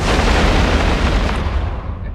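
A ship's weapon volley fires in the video game EVE Online, a loud, heavy booming roar with a rumbling, explosive body that fills the moment and slowly fades at the end.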